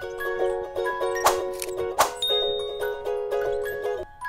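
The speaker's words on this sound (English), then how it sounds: "click on the notification bell so that you get notified also anytime I upload new videos" A bright chime rings in a steady repeating pattern, with two sharper bell dings standing out partway through, clear and close with no voices.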